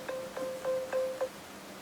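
Five short, evenly spaced electronic beeps from a GateKeeper 2.0 tracker sounding its locate alert, a clear steady tone repeated in a quick rhythm at moderate volume with no talk.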